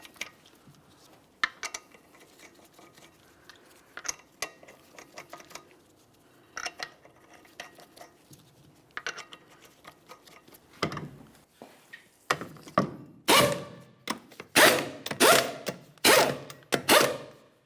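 A socket ratchets 19mm lug nuts onto a 2003-2007 Honda Accord rear wheel, with scattered light metallic clicks and clinks that build into louder, rapid bursts of ratcheting near the end, close by and without speech.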